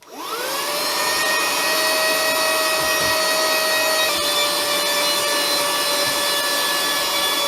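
A small cheap cordless vacuum cleaner with a nozzle cleans a laptop, starting with a rising whine and then holding a steady, loud high-pitched motor drone, with no talking.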